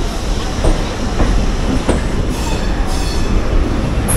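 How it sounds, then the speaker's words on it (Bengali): A Kolkata local train pulls out of Sealdah station, its wheels clattering and rumbling close by with squealing metal and rhythmic clicks over the rails, and no one talking. "ট্রেনটা ঠিক 10:02 শিয়ালদা স্টেশন থেকে ছাড়লো"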